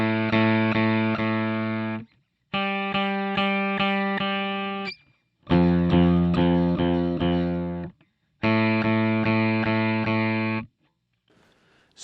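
Electric guitar run through a Boss OC-5 octave pedal set to add an octave up, playing four distinct sustained chord phrases with short silences between, loud and clear with no talking.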